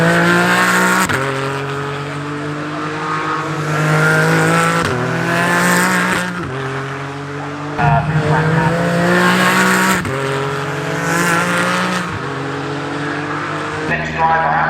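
Classic race cars run laps at Oulton Park during a supercar pageant, engines droning loud and close with repeated rising gear changes and brief tyre noise, under a commentator's running talk.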